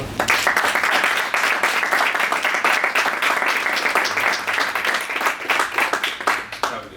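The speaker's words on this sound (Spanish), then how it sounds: "lo primero, por favor, darles un aplauso" Audience applause at a business leadership debate: dense, sustained clapping from a room full of people, loud and even for the whole stretch with no talking over it.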